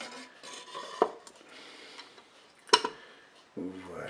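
A frying pan is set into the bowl of a Cookeo multicooker, giving a couple of sharp metallic clunks against a quiet room, followed by a short muffled rustle.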